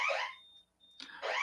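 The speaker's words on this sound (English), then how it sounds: "I've got some strange alarms going on right now." An electronic alarm sounds in short high-pitched beeping bursts, two loud pulses separated by a thin steady tone and a moment of near silence, heard indoors.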